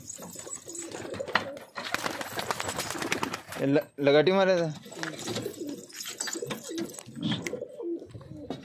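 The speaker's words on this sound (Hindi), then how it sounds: "माशाल्लाह क्या कबूतर है।" Pigeons coo in soft, repeated throaty calls, with one clear rising coo mid-way, while someone talks over and around them.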